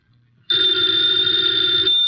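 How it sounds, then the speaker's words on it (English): A telephone bell rings in an old-time Nero Wolfe radio drama, bursting in loud and close after a half-second of near silence and holding as one continuous, steady ring to the end. "the ringing of that phone bell brings you mystery, adventure."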